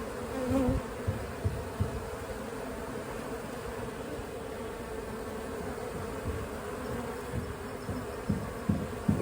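Dense, steady buzzing of a large honeybee swarm entering a hive box fills the whole stretch, close and constant, with small bumps and knocks underneath.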